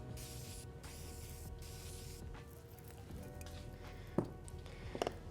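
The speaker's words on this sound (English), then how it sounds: "Gotta add a little bit of setting spray to it." Makeup setting spray mists onto a face in several short, hissing bursts from a pump bottle, close and soft, with brief taps and clicks near the end.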